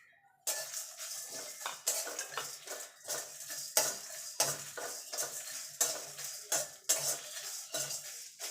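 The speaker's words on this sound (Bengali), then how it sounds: "এই মশলাগুলো ভেজে নেব" Whole spices (cloves, fennel, coriander seed, cumin, star anise and mace) fry in a pan for chicken curry, heard as steady clattering stirring strokes of a utensil against metal with a faint sizzle beneath, close and without talk.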